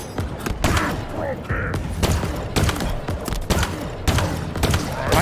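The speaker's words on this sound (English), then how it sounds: "why is it taking so many shots?" Gunfire in the video game Halo Infinite, a rapid string of shots and bursts with mechanical clanks, steady and fairly loud through the whole stretch, mixed with game background noise.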